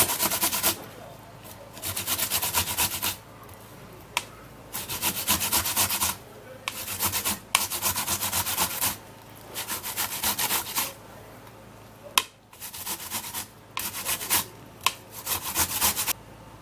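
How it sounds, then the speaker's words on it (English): An ingredient is rubbed hard against a grater to extract juice, making rhythmic bursts of rasping strokes separated by short pauses, close and clear. "grate it and extract the wonderful juice."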